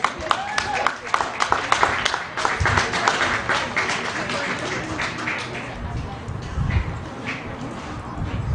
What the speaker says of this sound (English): Please give a round of applause to Tyler Thomason.